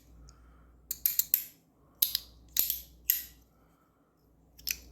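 Sharp metallic clicks from a Compoform V1.1 Mini track slider, close and crisp, arriving in short bursts of two or three with pauses between, then a final lone click, no talking.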